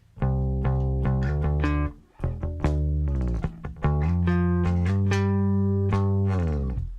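A bass guitar plays a riff as a run of plucked, sustained notes, rising at the end to G instead of dropping to E. The notes ring out clearly and alone, with a short pause near the middle.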